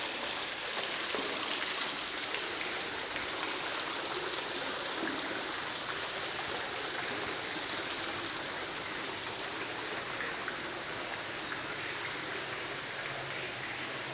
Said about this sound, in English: Nice water feature.